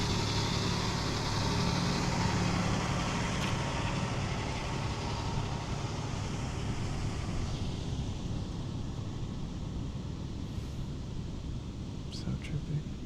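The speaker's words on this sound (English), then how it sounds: "Tractor man." A tractor engine rumbles past outdoors as a loud, broad low drone that swells and slowly fades, with voices occasionally audible over it.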